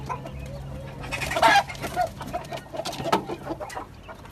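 Chickens, including a white hen, cluck in short bursts around a backyard coop, close and moderately loud over a steady low hum, with a few sharper calls in between.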